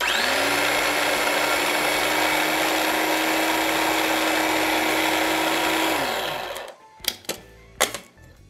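A food processor runs steadily on a red lentil mixture, a loud continuous motor whine with a rising pitch at start-up, then cuts off and winds down, followed by a few brief knocks and clatters.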